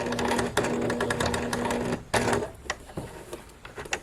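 A sewing machine stitches dress fabric to add a modesty panel in the back, a close, rapid mechanical whirring that pauses briefly, then restarts for a short backstitch run before easing into a few sparse clicks.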